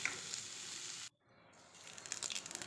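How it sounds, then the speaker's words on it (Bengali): Boiled potato and papaya sautéing in a little oil in a pan, a soft steady sizzle that breaks off briefly near the middle, then returns with faint crackles. "এইবার আমি সামান্য একটু তেলে যে আমি আলু আর পেঁপেটা সেদ্ধ করেছিলাম সেটা আমি দিয়ে এটার সাথে ভালো করে সাঁতলিয়ে একটু আংশিয়ে নেব।"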